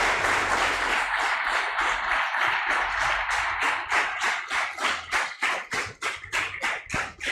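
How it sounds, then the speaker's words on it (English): Audience applause at a Sri Krishna Janmashtami temple event, a loud full crowd clapping that gradually loosens into slower, more distinct individual claps as it winds down. "Give a round of applause."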